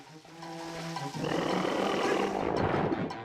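A boss monster in the video game Twilight Princess HD lets out a loud, sustained roar that builds and holds for several seconds, rough and growling over the game's background music.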